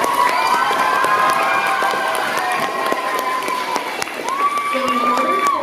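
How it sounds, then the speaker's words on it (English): An elementary school spelling bee audience claps and cheers loudly and continuously, with children's shouts and voices mixed into the dense, close crowd noise. "Let's give everyone on the stage a round of applause."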